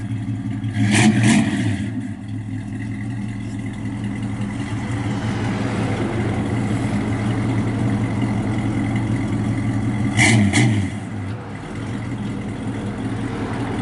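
A 1956 Chevrolet 210 engine idles steadily and is revved twice, each rev a brief surge in loudness, heard up close with no talking.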